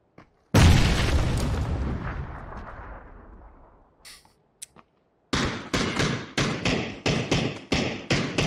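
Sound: bomb explosion from a video game

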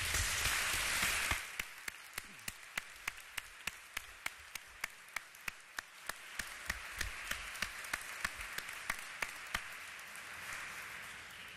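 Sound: audience applause at a graduation ceremony

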